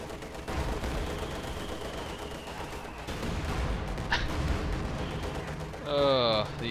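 Artillery and gunfire from a Company of Heroes 2 match, with howitzers firing, rumble steadily under commentary, and a louder burst lands near the end.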